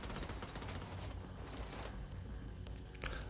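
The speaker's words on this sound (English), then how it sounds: "So we take him out, shred him with bullets." Rapid, unbroken automatic gunfire in the video game The Division 2, a steady dense rattle of shots shredding a rushing enemy, fairly faint in level, with a brief sharper burst near the end and no talk.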